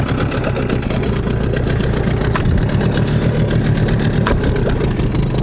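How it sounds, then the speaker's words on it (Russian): An outboard boat motor running on TC-W3 two-stroke oil, a steady buzzing idle with a mid-pitched drone and continuous rhythmic engine pulses, close and loud, with occasional brief clicks. "Давайте заведем моторчик."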